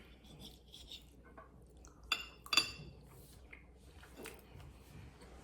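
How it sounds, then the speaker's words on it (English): Metal knife and fork clinking and scraping on a plate while eating air-fried chicken, pumpkin and hummus: a few soft clatters, then two sharper close clinks in quick succession, with quieter scrapes after, no talk. "And now with a normal size knife and fork, I'll actually taste it."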